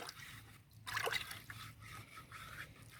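Water is poured into a small bucket, a brief close splash followed by soft trickling and sloshing over a low hum.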